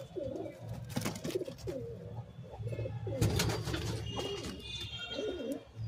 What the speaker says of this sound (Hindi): ये भाई प्योर पंजाबी कबूतरी है